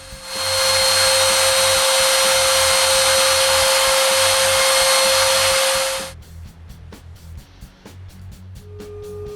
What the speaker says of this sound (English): I carve my name on the back rail using my pantograph.